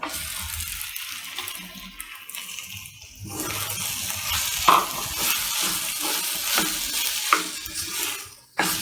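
A spoon stirs a spicy Sri Lankan cuttlefish and potato curry in a pot, with a quiet start, then steady scraping and bubbling sizzle and a few sharper knocks against the pot.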